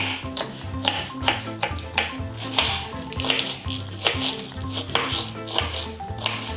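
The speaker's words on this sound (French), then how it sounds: "comment on coupe un chou ?" A knife chops a cabbage on a board with a steady, rhythmic series of crisp cuts over a low background hum. The strokes come evenly spaced and fairly close, with no talking.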